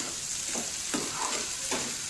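Prawns sizzle steadily in a pan while being stirred, with about four distinct scraping stir strokes spaced through the continuous hiss of frying.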